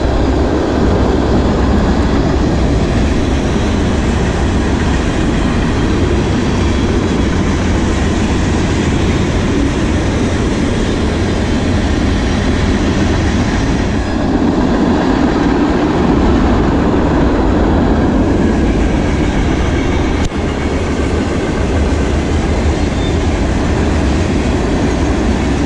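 CSX manifest freight train rolling past at low speed, a loud, steady rumble of wheels and railcars with faint clatter throughout, close by and uninterrupted.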